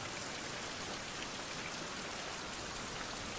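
Rain in the video game Survival Craft, a steady dense hiss of falling drops that holds even and unbroken throughout, with no voices.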